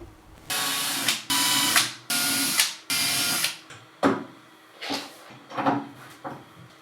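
A power drill with a 3mm wood bit bores pilot holes in wood while building a 3D printer enclosure: four loud, sustained whirring bursts close by, then several shorter, fainter spins and knocks.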